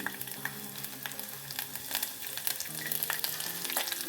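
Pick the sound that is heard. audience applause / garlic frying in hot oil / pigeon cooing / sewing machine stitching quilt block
garlic frying in hot oil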